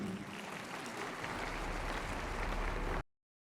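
Audience applause at a Turkish business event on online payment systems, welcoming an İş Bankası branch manager to the stage; a steady, dense wash of clapping lasting about three seconds before cutting off abruptly.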